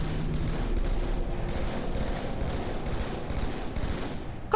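Rapid, dense bursts of gunfire in the video game Halo 2 crackle almost without pause, a steady barrage of shots at moderate loudness.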